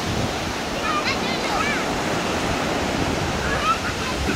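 Sea waves break along the shore of an island off Flores, a steady, broad wash of surf with wind noise on the microphone and no pause across the whole stretch.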